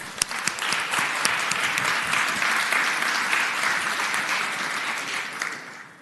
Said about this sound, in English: we will stand and give him an applause anyway